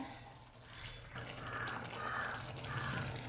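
Cooking water pours steadily into a pot, a soft continuous splashing rush that grows slightly louder and carries on without any talking.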